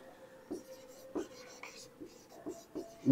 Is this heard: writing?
yes